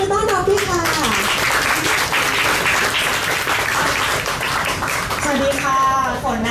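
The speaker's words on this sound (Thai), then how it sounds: "ขอเสียงปรบมือต้อนรับด้วยค่ะ" A crowd breaks into sustained applause, dense clapping filling the room, with a voice over a microphone at the start and end.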